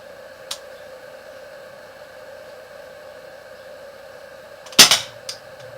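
An Umarex Luger P08 air pistol fitted with a stock fires at a green Sprite tin 31 feet away, giving one sharp close crack and a faint ping of the hit, plus a quieter click earlier, over a steady hiss.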